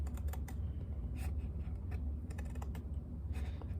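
Blade or scissors cutting across the long edge of a stack of book pages while prepping them for bookbinding, a steady close crunching and scraping with rapid small clicks, loud and continuous without any talk.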